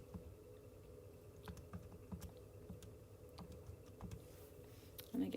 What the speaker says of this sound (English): Type that all in my calculator.